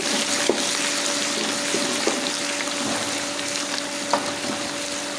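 Garlic ginger paste frying with browned onions in a pan, a continuous close hiss and sizzle with a faint steady hum and occasional light taps.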